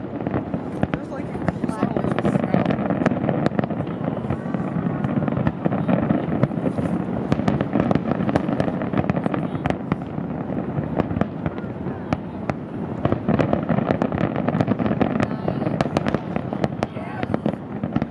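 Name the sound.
New York City July 4th fireworks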